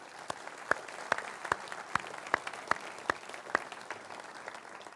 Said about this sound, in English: I really think they deserve a round of applause